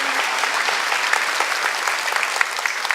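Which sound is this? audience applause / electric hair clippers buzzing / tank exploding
audience applause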